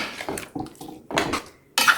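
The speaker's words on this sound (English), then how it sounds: "once you get the cucumbers and onions in here, we're going to give it a good stir" Cucumbers and onions being stirred in a bowl for bread and butter pickles, close scraping and clinking of a utensil against the dish in short irregular strokes, with no talking.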